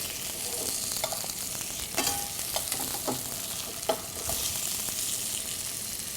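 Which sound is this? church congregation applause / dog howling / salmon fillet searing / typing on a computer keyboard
salmon fillet searing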